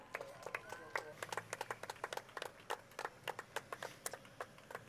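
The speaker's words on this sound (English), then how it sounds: "Let's give them a round of applause for that." At a Fourth of July parade, a crowd claps for law enforcement in an uneven patter of sharp claps that rise and fall.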